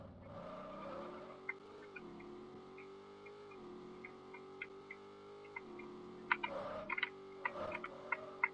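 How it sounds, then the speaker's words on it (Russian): A car's rear slides out under throttle and drifts sideways. A steady engine drone shifts pitch as it goes, while scattered tire chirps and squeals grow louder and more frequent near the end. "Задок начинает заносить под газом."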